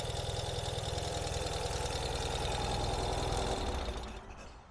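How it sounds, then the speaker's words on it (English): A 2022 Ural Gear Up motorcycle engine idles smoothly up close, a steady, even low thrum with a regular mechanical pulse that holds constant before easing off near the end. "So now that we've heard how smooth the engine runs"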